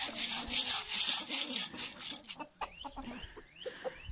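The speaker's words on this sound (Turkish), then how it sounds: "Horoz hepsini çağırıyor yani." A rooster crows loudly in a village over a background of rough scraping or rubbing noise, followed by quieter rising squawks and clucks from nearby hens.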